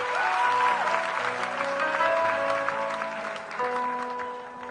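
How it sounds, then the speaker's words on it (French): Congregation applauding during a French-language sermon by a priest, steady clapping throughout with sustained organ or keyboard tones underneath, moderately loud and continuous. "On acclame le Seigneur pour cette prophétie."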